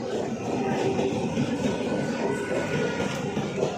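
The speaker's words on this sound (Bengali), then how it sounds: "দেখুন ট্রেন চলে যাচ্ছে" A train rolls past a station in the rain, a loud, dense rumble and rattle of wheels and carriages that continues without a break.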